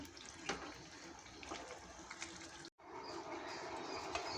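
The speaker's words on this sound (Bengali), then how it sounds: "আমি দিয়ে দেবো জল" Water pours into a pot of braised goat meat, a faint continuous splashing trickle with a brief break midway.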